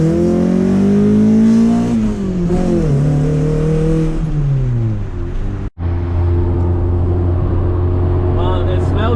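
A Honda VTEC engine with a leaky exhaust revs loudly up close, its pitch climbing and wavering before dropping. After a brief cutout it settles into a steady droning idle.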